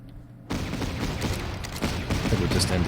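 Mortar fire and explosions in Battle Academy 2, set on the Operation Bagration campaign, bursting in suddenly after a brief quiet, then a rapid string of loud, close blasts and cracks that keeps rolling to the end.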